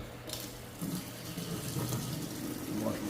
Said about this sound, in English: Wash my hands up.